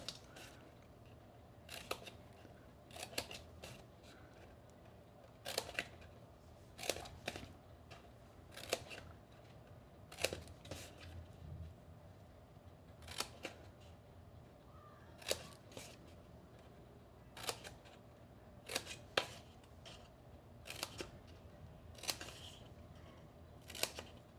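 Scissors snip small miter cuts into paper for an octagon gift box, sharp crisp clicks in irregular pairs and clusters, close and fairly quiet against a soft background.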